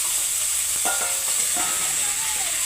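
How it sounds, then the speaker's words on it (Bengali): Meat and potatoes fry in oil in a pan, giving a steady close sizzle and hiss with a few faint scraping stirs and no voices. "এই তেল দেওয়ার পরে ভুজি গেরা মাংসগুলো কষে নেবো আলুর সাথে"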